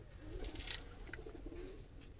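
Pure Kasuri pigeons at a Gujjar club coo softly in a low, murmuring run over a faint background hum; no voices.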